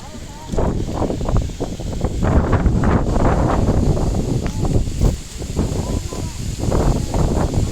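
Strong storm wind roars and buffets a microphone in heavy gusts, with a voice speaking faintly beneath the rushing noise.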